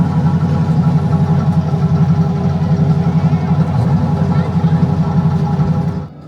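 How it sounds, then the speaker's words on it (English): A steady, loud engine-like rumble plays from a sound effect on an amusement park family car ride, droning evenly for several seconds before cutting off abruptly. "That's got a sound effect there as we're going round. It's like the car engine rumbling."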